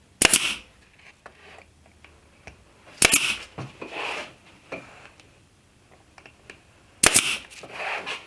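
A pin nailer drives 1.25 inch pins into wood while a table saw crosscut sled is built, giving three sharp, loud snaps a few seconds apart with quiet handling noise between them.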